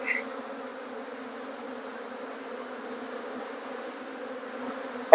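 A dense swarm of honeybees drones steadily around an open beehive during an inspection, a continuous close buzzing that holds for the whole stretch before a sudden loud knock at the end.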